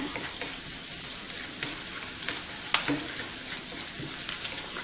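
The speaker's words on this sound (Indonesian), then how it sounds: "Kita aduk. Udah mulai beraroma harum." Pumpkin cooking in a pan gives a steady, soft sizzle with light scraping as it is stirred, continuous and close with no voices.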